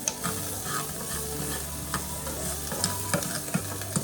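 Food sizzles steadily in a pan on a stove while a utensil stirs and scrapes it, with a few sharper clinks near the end, all fairly close and free of talk, part of cooking a Belizean breakfast.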